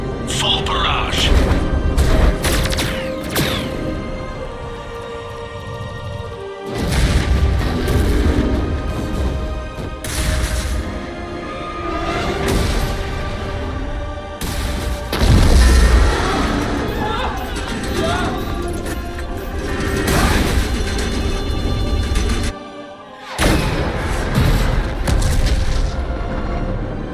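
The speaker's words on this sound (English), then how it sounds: "All ships, full barrage." Ships launch a full artillery barrage in Mass Effect: Legendary Edition, heavy booms and crashes thundering in waves beneath ongoing voices and game music, with short silent gaps.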